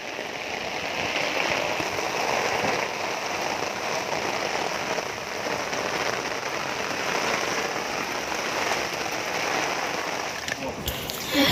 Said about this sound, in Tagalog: May bagyo na naman kasi. Kaya eto, lakas ng ulan.